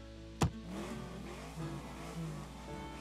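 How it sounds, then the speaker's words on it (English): A visual novel car sound effect of a car speeding off with screeching tires: a sharp burst at the start, then a steady roaring engine rev that holds loud and continuous to the end, with no voices. "As I'm watching JB's car screech off into the distance"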